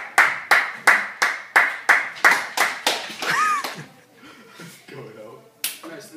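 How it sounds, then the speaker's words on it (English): A round of applause for a guest at a studio show comes as a series of about ten sharp, evenly spaced claps, then fades into a brief murmur of voices and a last clap. "Let's give him a round of applause."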